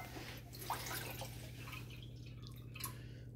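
Water poured into a pot for rice soup, a soft steady trickling and splashing with a few small drips over a constant low background hum, faint and continuous, no talking.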